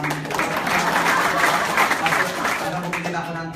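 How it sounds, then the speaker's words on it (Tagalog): An audience at a business presentation breaks into loud, steady applause that fills the whole moment, with a voice talking over the clapping. "Palakpak."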